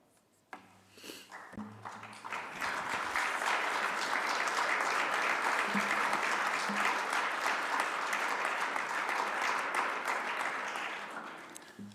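Sustained audience applause after a speech at a conference, starting with scattered claps, swelling into a full, even ovation for several seconds, then tapering off.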